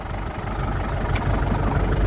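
An Ursus / Massey Ferguson 3080 tractor engine idling close by, a steady low diesel chug with a dense rumbling texture that holds even for the whole stretch.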